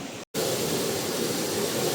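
A lower waterfall deep in a forest near Dumaguete roars as a constant, loud rush of falling water. A brief silent break interrupts it near the start, then the wash resumes unchanged.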